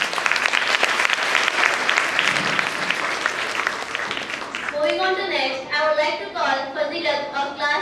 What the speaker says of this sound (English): Awesome girls, please give a big round of applause for them.